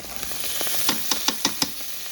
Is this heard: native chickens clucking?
no